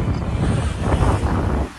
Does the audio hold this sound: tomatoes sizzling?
no